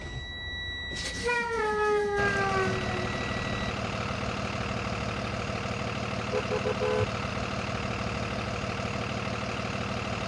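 A 2023 bus in the Rigs of Rods driving game cranks and starts, with rising whine tones, then settles into a steady, droning idle that runs continuously and fairly close, with a few faint beeps.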